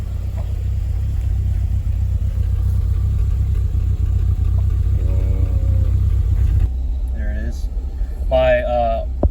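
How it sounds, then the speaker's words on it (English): A car's exhaust note at idle, a loud, steady low rumble that runs throughout, with someone talking over it near the end. "Let's get an exhaust note"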